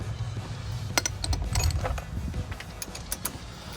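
A 13 mm nut on a Ford F-150 front hub and wheel bearing assembly cracks loose under a wrench, with short metallic clicks and creaks over a low mechanical rumble, close and fairly loud.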